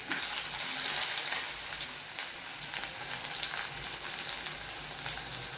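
Chopped shallots fry in hot oil with a steady, loud sizzle and crackle, a little stirring faintly audible, for a chutney cooked after mustard seeds have spluttered.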